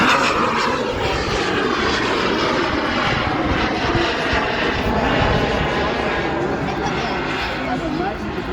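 Fixed-wing aircraft roaring overhead at the 2023 Cleveland Airshow, a loud continuous engine drone with sweeping pitch shifts as it passes, steady and dense throughout, with crowd chatter faintly mixed in.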